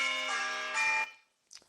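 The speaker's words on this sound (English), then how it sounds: "that's my alarm." An alarm rings out briefly, a loud sustained bell-like electronic tone holding steady for about a second before cutting off abruptly, followed by a short faint rustle.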